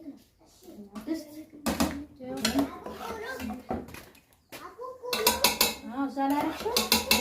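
Metal pots and utensils clank and scrape repeatedly as spiced food is turned into a large cooking pot, in irregular bursts of sharp ringing hits with short pauses between.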